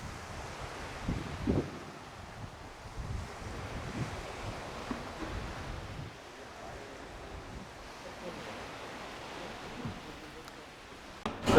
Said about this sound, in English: You can walk straight out onto the beach and you can hear the waves.